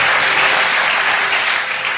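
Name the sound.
congregation applause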